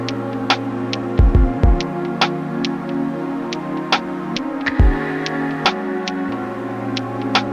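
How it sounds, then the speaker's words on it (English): A programmed drum loop with a synth patch playing a MIDI chord progression, sustained chord tones stepping through changes over a steady kick-like pulse and regular ticking hits, fairly loud and alone with no talking. "the MIDI, the drum loop, and the synth patch, they just sound really awesome together"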